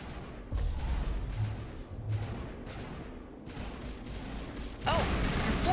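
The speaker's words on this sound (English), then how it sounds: "who's still shooting at us?" Scattered gunshots ring out in Mass Effect, several sharp bursts at moderate volume amid steady game ambience, with a second cluster of shots near the end.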